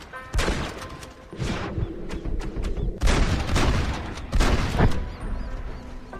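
Gunfire in the video game Red Dead Redemption, several loud sharp shots and booming blasts in quick bursts, with rumbling echoes between them over a game soundtrack.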